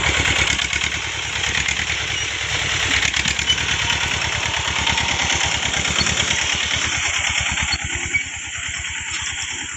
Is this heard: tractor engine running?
yes